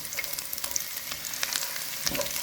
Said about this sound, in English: I'm gonna go ahead now and toss my ginger in,